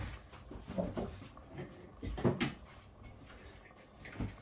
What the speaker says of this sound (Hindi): अब हम कुकर को बंद करेंगे